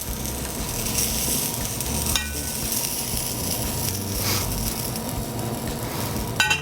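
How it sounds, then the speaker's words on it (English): Bangers (sausages) sizzle and crackle on a grill in a steady, close, continuous fry with a brief scrape or clatter near the end, no talking. "Okay, we've got these nice bangers here. We're just gonna pop those on."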